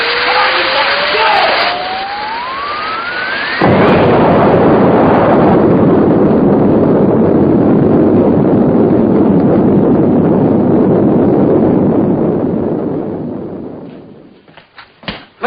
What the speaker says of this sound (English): Looks like there's been some kind of an explosion over in Pelham Woods.